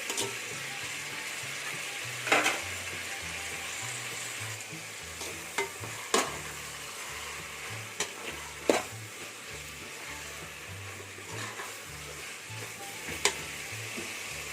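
Tomatoes sautéing in a pan for mutton biryani, an even, steady sizzle with occasional sharp clicks and scrapes of a spoon stirring against the pan.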